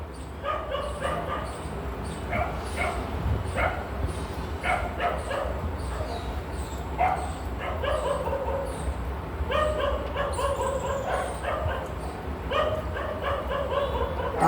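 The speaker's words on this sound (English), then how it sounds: "they're barking all night, 24-hour barking" Several dogs bark and yip repeatedly in short overlapping bursts, fairly close, over a steady low background hum.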